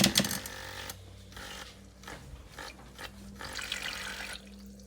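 A small USB milk frother motor whirs steadily on its low speed setting with a soft liquid churn, quiet and continuous after a brief louder start.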